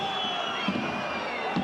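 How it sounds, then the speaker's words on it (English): A basketball crowd in a packed arena roars in reaction to a foul during a Reggio Emilia vs Zenit quarterfinal game, a steady loud wash of noise with a couple of brief swells. "You can hear what the crowd make of that."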